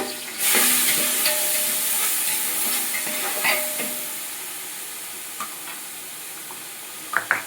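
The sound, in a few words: turmeric frying with capsicum for veg rice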